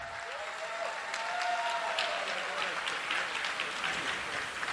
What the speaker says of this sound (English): Let's give a round of applause for those students new to Principal's Honor Roll